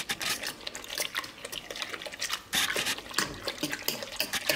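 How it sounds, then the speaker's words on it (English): A charcoal briquette mixture is stirred in cold water, giving repeated wet sloshing swirls in uneven bursts, close and fairly loud, with no voices. "rather just stir this up in cold water so it doesn't form lumps"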